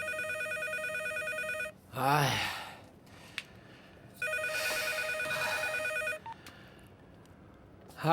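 A telephone rings loudly and steadily indoors in two long bursts, with a sharp breath or gasp between them and a quiet pause at the end; nobody speaks.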